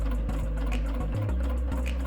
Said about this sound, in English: I sew straight across to the other corner